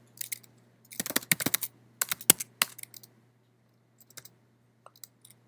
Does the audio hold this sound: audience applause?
no